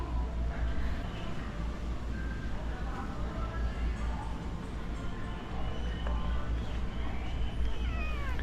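A cat meows a few times amid a busy, noisy indoor space with steady background hum and chatter.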